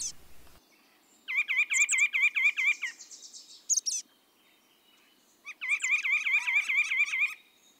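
Chestnut-backed chickadees, white-breasted nuthatches and oak titmice call from trees and shrubs in Joseph D. Grant County Park, giving two bursts of rapid, repeated, clear chirping notes with a short high call between them and quiet outdoor background.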